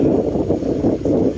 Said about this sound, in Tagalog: Mahangin siya, mahangin.